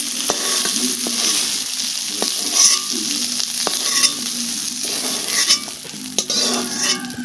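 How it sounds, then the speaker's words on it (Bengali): Eggplant pieces frying in hot oil, a loud, close sizzle with frequent scraping and tapping of a spatula as they are turned and stirred. "বেগুনটা ভেজে নিচ্ছি"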